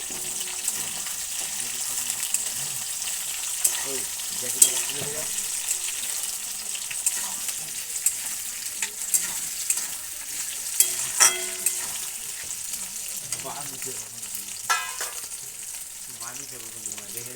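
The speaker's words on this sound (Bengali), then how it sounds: "কাঁচা লঙ্কাগুলো দিয়ে দিলাম আর দিয়ে দিলাম থেতো করে রাখা রসুনগুলো। এবার আবার নেড়ে চেড়ে দিচ্ছি।" Green chillies and crushed garlic sizzle steadily in a hot pan while being stirred for a goat meat curry, with a continuous close frying hiss and scattered scraping and clicking from the spoon, no voices.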